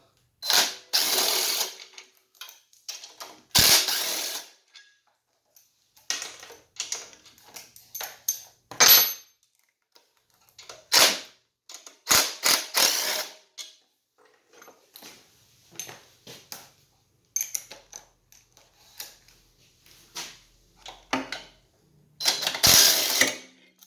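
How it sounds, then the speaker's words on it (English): Bolts being removed from a pressure washer pump, heard as bursts of ratcheting clicks and metallic mechanism sounds separated by short pauses, close and fairly loud with no talk. "So we're going to take the bolts off."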